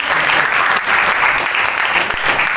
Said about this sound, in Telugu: అది చప్పట్లు కొట్టండి గట్టిగా.